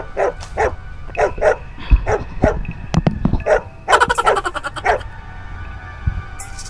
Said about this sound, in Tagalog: Marami pa nandun mga aso.